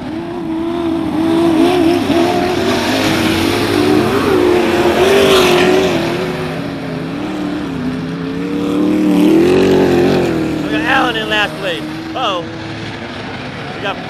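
Superstock race cars thunder around Barona Speedway in a main event, engines roaring and rising and falling loudly as they pass, under continuous excited commentary from a race announcer.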